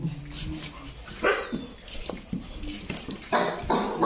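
A dog barks and yips several times in quick, uneven bursts, fairly close, with some rustling in between.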